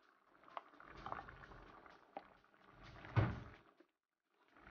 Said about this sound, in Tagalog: So, kumukulo na siya ngayon, guys.